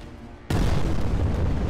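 A nuke goes off in the space combat game Between the Stars: after a short quiet hum comes a sudden loud, deep blast that stays as a heavy rumbling roar to the end, with no voices.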